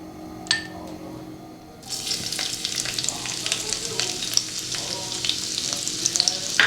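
Chopped ginger, garlic, green chili and onion hitting hot oil, a quiet clink first, then a sudden steady sizzle that crackles and spits continuously with occasional stirring scrapes, close and fairly loud.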